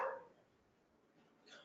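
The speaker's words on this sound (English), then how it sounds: "Somebody's dog bark." A dog barks somewhere in the background during an online class session, one short muffled bark at the start and another faint one at the end, distant and quiet.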